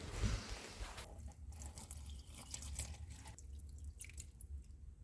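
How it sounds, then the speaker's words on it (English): Water trickles and drips softly as houseplants are watered, a faint, close, continuous pour with light splashing and no talking. "Let's water these poor innocent plants."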